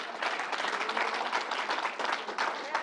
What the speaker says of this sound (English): Let's give the Reverend another round of applause.